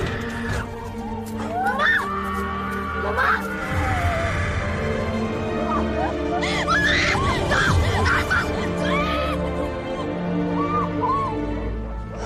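A woman screams hysterically in a film scene set in a house yard at night, with shrill wavering cries rising and breaking over a tense background score, joined by other voices and a sharp crash.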